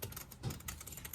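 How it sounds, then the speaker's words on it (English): Scissors snip through small scraps of craft paper in a quick run of light, crisp cuts, close up and with no talking. "take my scissors and I'm going to go like this"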